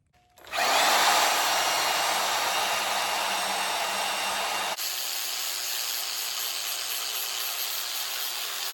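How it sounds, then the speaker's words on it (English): A power tool grinds a metal spacer smooth on a NASCAR Craftsman truck build, a loud close steady high whine that starts suddenly and changes load partway through, with no talk. "we got this spacer ground smooth now"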